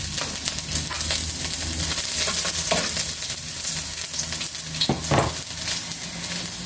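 Garlic frying in hot oil for a tricolor spaghetti sauce, a loud dense sizzle with scattered crackles and several scraping stirs against the pan, up close and without speech.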